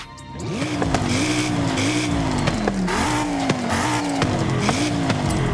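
Car in a racing video game, set up as a rally car, its engine revving up and down in repeated waves over continuous tire squeal, loud and steady with no talking.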